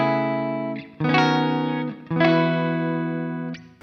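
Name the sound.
Enya Inspire smart guitar, clean preset named Soft Cry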